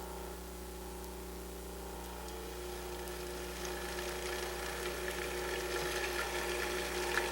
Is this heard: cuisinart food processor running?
yes